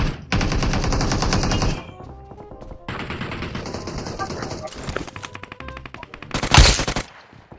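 Rapid bursts of automatic gunfire from a PUBG battle, loud and close, with repeated shots in several clusters and a sharp blast near the end, with a voice talking over parts of it.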